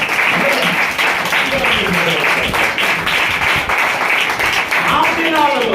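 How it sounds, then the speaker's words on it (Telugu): Loud, dense applause from a congregation at a church thanksgiving service fills the space continuously, close and sustained with a few individual claps standing out. "బిగ్గరగా చప్పట్లు."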